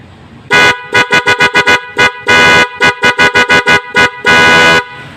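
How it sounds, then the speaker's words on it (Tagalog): A newly wired dual car horn honks repeatedly at close range, loud: a long blast, then rapid short beeps, more long toots and another sustained blast. "Ito po yung uh, pangalawang busina po niya mga boss"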